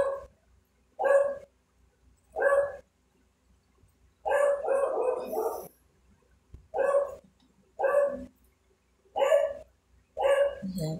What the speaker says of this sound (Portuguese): Desculpa o barulho, é que é meu cachorro latindo.